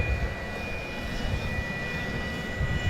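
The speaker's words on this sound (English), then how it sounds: "Here comes American Flight 831 from Monterrey, Mexico. It's Airbus A319." An American Airlines Airbus A319 jet arriving at DFW Airport gives off a steady, broad engine roar with a faint high whine, heard from some distance without talk.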